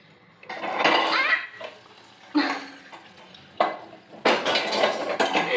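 Lentils and rice are washed in water, sloshing and splashing in a metal pot in several bursts, with grains rattling and clinking against the pot between short pauses.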